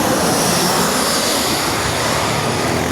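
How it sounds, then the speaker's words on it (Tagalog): A Philippine Airlines airliner passes overhead, a steady broadband engine roar that fills the clip at a constant level with no talk. "Aeroplano, may dumating na naman si Philippine Airlines"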